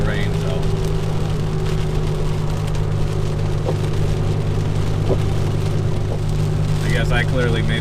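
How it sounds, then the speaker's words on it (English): Steady heavy rain drums on a Dodge Viper driving on a wet road, a loud constant wash of water and tyre hiss with a low engine drone underneath throughout. "It's been raining all morning."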